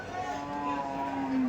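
A single drawn-out cow moo at a busy cattle market in Dhule, close and loud, wavering in pitch and rising in strength toward the end over faint background crowd noise.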